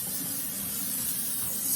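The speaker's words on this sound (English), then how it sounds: "spray the muffin tins down really well" Cooking spray hisses steadily onto metal muffin tins, a close, continuous spray lasting a couple of seconds with no talk over it.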